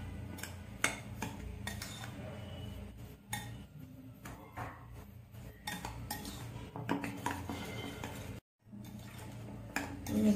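Rice flour, powdered milk and a pinch of salt are stirred together in a metal bowl, producing continuous scraping and clinking of utensil against the dish, fairly close and steady.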